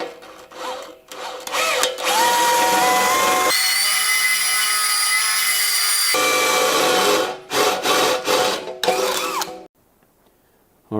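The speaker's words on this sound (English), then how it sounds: "It'll drill a little pilot hole so the drill bit can't walk, and bang, straight through." A power drill whines and grinds in long loud bursts, drilling pilot holes then straight through for a battery tray in a car's electrical upgrade, pausing briefly between holes before the motor winds down into quiet.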